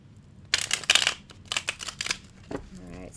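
Oracle cards being riffled and shuffled up close, with quick papery bursts of flicking followed by lighter taps and rustles as the deck is squared, with no one speaking.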